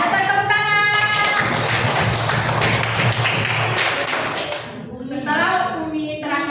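A classroom of students clapping their hands together in a sustained burst of applause, broadband and dense, with a teacher's voice heard before and after it.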